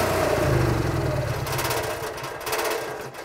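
A Cummins Onan 4000 watt RV generator running, a steady mid-pitched engine drone with a mechanical hum that shifts slightly in tone partway through, heard close with no talk.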